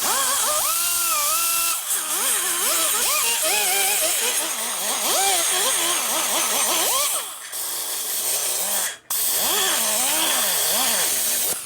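A rotary cutter smooths the exhaust port of a Harley 80ci Evo cylinder head, its loud, close whine rising and falling in pitch as the tool works, with a brief drop-out near the end.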